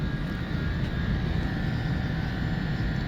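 A Trane rooftop package unit that is not cooling enough runs its blower, giving a steady droning whoosh with a low rumble and faint tonal hum that stays constant throughout.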